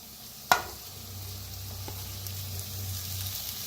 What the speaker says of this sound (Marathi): आता बटाटू मिक्स करू ह्याच्यात।